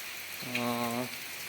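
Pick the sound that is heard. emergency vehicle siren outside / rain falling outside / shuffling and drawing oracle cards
rain falling outside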